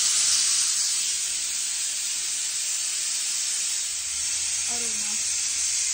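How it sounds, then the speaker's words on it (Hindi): A pressure cooker whistle: one loud, steady rush of hissing steam that runs unbroken through the whole stretch, with a brief low tonal wobble near the end. "फाइनली 1 सीटी तो लग गया"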